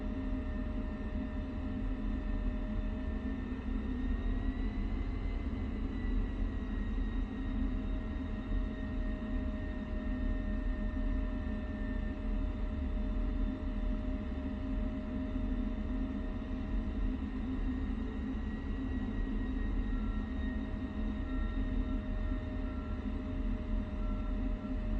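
A jet aircraft engine hums steadily while taxiing in the DCS flight simulator, a continuous close rumble with a faint high whine running throughout and no talking.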